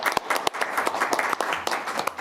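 Applause at a city council meeting, a crowd clapping steadily and briskly in the chamber with dense overlapping claps and no voices.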